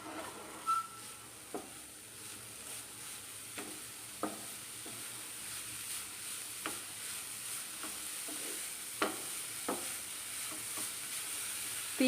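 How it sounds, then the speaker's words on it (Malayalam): Kerala-style Ramzan pudding mixture is stirred in a pan over high flame: a soft, continuous frying sizzle under repeated sharp spatula scrapes and taps spaced a second or two apart, with no speech. "ഇനി നമുക്കിത് ഒന്ന് ഇളക്കി കൊടുക്കാം"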